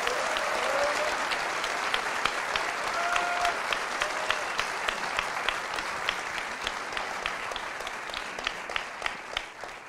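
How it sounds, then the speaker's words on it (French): A live audience at a public NBA podcast taping in Paris claps steadily for about ten seconds, a dense wash of applause with individual sharp claps standing out near the end and faint vocal tones at moments. "Vous pouvez vous applaudir."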